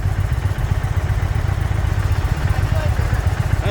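An Indian motorcycle engine runs with a steady, pulsing low rumble close to the microphone, throbbing evenly throughout with no talk over it.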